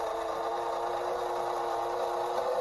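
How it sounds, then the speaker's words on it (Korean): A steady, high-pitched mechanical whine drones on without pause, loud and close, with no voices: an oil suction pump running dry while extracting engine oil from a Renault Samsung QM5 2.5 gasoline. "석션할 오일이 없으면 이런 소리가 납니다"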